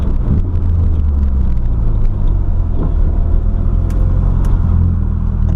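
A PS13 Nissan Silvia with an SR20DET engine and a whining differential, heard from inside while driving: a loud, steady low rumble of engine and road noise that runs unbroken throughout.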